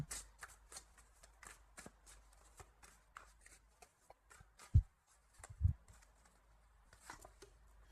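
Tarot cards are shuffled for a new draw, a quick run of soft riffling flicks and taps close by, with a couple of louder bumps midway and no talk.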